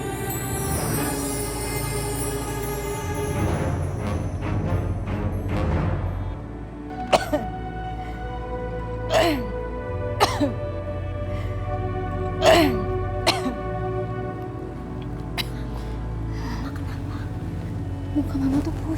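A woman coughs several times in short, sharp bursts over a quiet indoor background with soft music, the coughs spaced a few seconds apart and fairly close.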